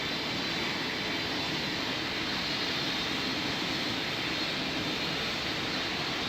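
A Korean Air airliner taking off in the Roblox game Pilot Training Flight Simulator gives a steady, loud engine roar and rushing hum that holds evenly throughout, with no voices heard.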